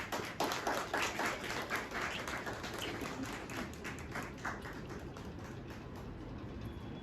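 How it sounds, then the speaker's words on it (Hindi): An audience applauds for several seconds, a faint, steady patter of many hands that softens slightly toward the end, heard from some distance. "जोरदार ताली इन लोगों के लिए"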